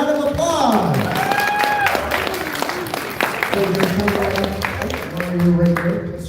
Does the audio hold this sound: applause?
yes